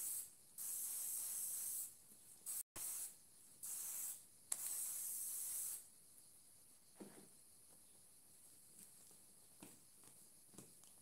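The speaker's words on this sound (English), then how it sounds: "so I'm just going to spray" An aerosol hair shine spray hisses onto Kanekalon hair extensions in several close bursts, each a second or two long, followed by quieter clicks and faint handling noises.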